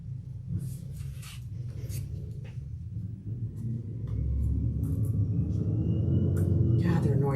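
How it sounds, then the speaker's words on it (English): A garbage truck outside makes a low, steady rumble that grows louder and heavier partway through, with faint clatter over it. "The trash man's here today. Can you hear him?"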